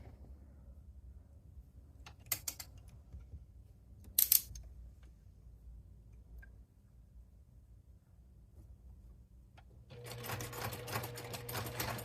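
Sewing machine stitching a quarter-inch seam for a fabric playing cards case, a soft mechanical whir that starts near the end and runs steadily, after quieter handling clicks and a few sharp taps.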